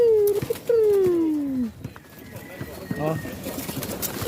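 Pigeons coo in a loft or coop as someone speaks in Tagalog, and their low, soft calls sit under and between his talk.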